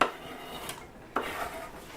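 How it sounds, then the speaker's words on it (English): Ingredients are chopped in a home kitchen while preparing shrimp and scallop étouffée, with two faint, distinct knife knocks on a board and a quiet background. "what I'm doing is just chopping up stuff and getting ready"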